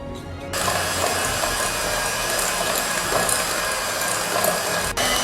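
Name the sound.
electric hand mixer creaming butter and brown sugar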